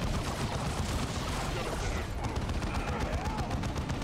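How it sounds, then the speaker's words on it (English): Troops fire guns in Warhammer 40K: Dawn of War 2 as a dense, continuous battle din of rapid shots and booms, with no gaps or separate bursts across the whole stretch. "the heck are you firing on?"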